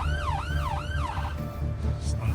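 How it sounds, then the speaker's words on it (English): An ambulance siren wails close by, its pitch sweeping up and down in repeated cycles over a steady engine rumble, then breaking off partway through. "Knock the sirens off."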